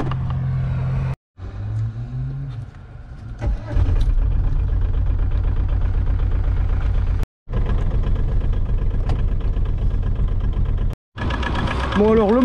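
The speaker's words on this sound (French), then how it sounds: "c'est le Kubota Z482, donc le moteur le plus puissant de tout le règne du sans permis" An Aixam Coupé Emotion microcar with its Kubota Z482 diesel engine running, a close, steady clattering idle with brief gaps and a rise in revs partway through.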